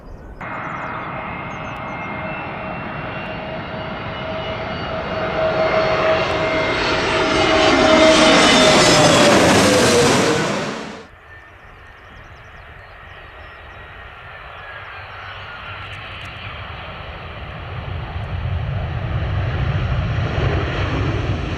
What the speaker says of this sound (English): I was at one end of the runway with the aircraft going right over the top of my head